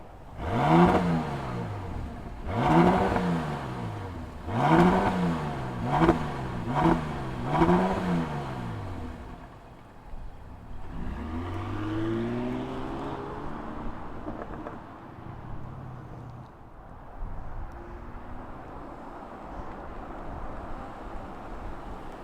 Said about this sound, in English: twin turbo W12, why don't we go ahead, let's fire it up and hear what it sounds like.